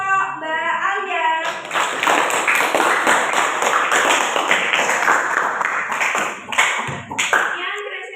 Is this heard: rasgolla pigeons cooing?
no